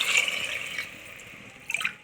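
Water is poured into a bowl holding one cup of basmati rice, a faint, brief splash and trickle close by.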